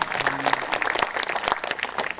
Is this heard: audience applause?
yes